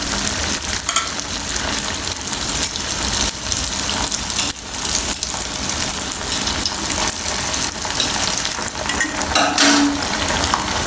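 Rava kachchayam batter frying in hot oil over a high flame, giving a loud, dense, continuous sizzle with a few brief crackles and clicks scattered through.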